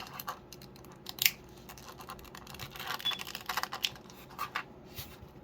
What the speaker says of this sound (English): And now I'll pull out the individual cards.